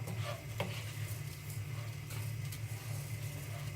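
Rice being gently stirred in oil and butter in a pan, a soft, quiet sizzle with faint scraping of the utensil and a steady low hum, no voices.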